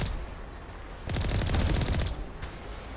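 Rapid volley of rocket fire and blasts in the video game Mass Effect 1, a dense burst of repeated booming impacts swelling up after a quieter rumble and then tapering off, loud and close.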